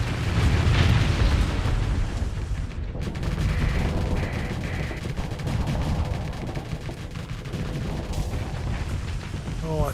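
Missile explosions in the space combat game Starsector: dense, booming blasts and crackling bursts pile up in a constant loud roar, with sharper pops and impacts breaking through now and then.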